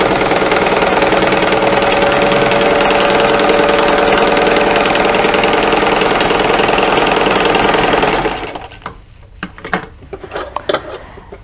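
A sewing machine runs steadily while stitching serpentine lines through fabric for a zippered boxed pouch, a loud continuous mechanical whir for about eight seconds that then stops, leaving only light handling noises.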